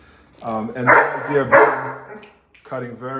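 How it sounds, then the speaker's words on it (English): A dog named Rex barks anxiously a few times indoors during a haircut, the sharp barks mixed in and partly blending with a person speaking over them. "So if you hear some barking"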